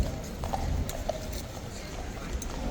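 Hooves of a nervous cavalry guard horse clip-clop on hard ground at a sentry post, irregular near steps under a general outdoor crowd murmur.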